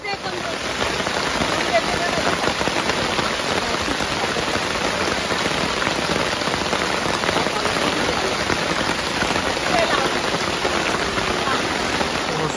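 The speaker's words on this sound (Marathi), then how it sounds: "पाऊस आणि निसर्ग." Steady monsoon rain pours down outdoors in a village beside a wood-fired stove, a dense even hiss that holds at constant strength throughout with no pauses.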